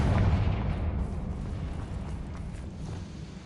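A Confringo spell blast in Hogwarts Legacy, heard as a loud, rumbling explosive boom that hits at once and then fades slowly over a few seconds.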